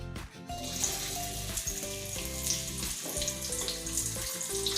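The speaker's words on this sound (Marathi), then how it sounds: "त्यात कांदा टाकते" Onion frying in hot oil in a pan for a pumpkin bhaji, a steady close sizzle with a few clinks and stirs, no talk.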